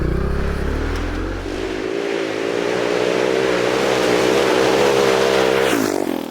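A car with an Akrapovic exhaust drives along a gravel forest track, its deep, loud exhaust note droning steadily up close with rising revs and a sharp shift in tone near the end.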